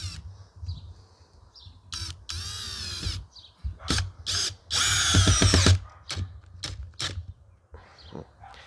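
A Parkside Performance PBSPA 12 C3 cordless drill driving screws in a garden setting, with several short whirring bursts and two longer, louder runs as screws go in, close and alone.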